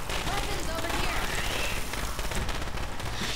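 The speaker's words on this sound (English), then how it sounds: "That's some nice fireworks." Fireworks going off in the zombie shooter Left 4 Dead 2, a rapid crackling barrage of pops and bursts layered over game noise, sustained and fairly loud, with players talking over it at times.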